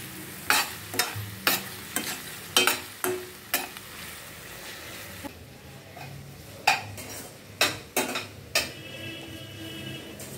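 Curry leaves frying in a pan while a utensil stirs them, sharp metallic scrapes and clinks landing every second or so over a low steady sizzle, close and fairly loud, no voices.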